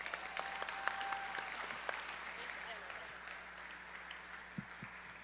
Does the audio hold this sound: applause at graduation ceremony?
yes